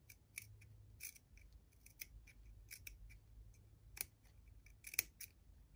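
Scissors snip through layered fabric while a sewing scrub cap is trimmed, giving a quick series of crisp, close cuts with short pauses between them and no talking.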